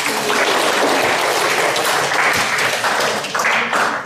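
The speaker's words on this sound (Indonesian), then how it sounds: "kita boleh tepuk tangan" Loud, close applause fills a room as a seminar audience claps together after a guided eyes-closed exercise, a thick, continuous patter of many hands sustained for several seconds without talk.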